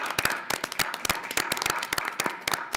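An audience at a school board of education meeting applauds, a dense burst of close handclaps continuing steadily with no voices over it.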